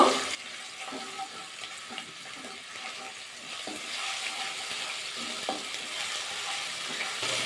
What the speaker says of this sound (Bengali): আদাটা দিয়ে দেবো এবার তেলের মধ্যে, দিয়ে একটু নাড়াচাড়া করে নেব।